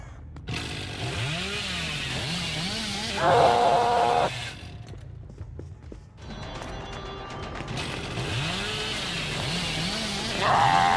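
Hillbilly's chainsaw in the video game Dead by Daylight revs with a rising, pulsing mechanical roar that swells and cuts out in bursts, loud and close, among other in-game noises.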